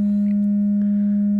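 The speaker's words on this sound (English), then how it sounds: "there's a sine wave" A pure sine wave from an ARP 2600 synthesizer holds steady as one loud, unbroken low tone with no harmonics, alone and unchanging throughout.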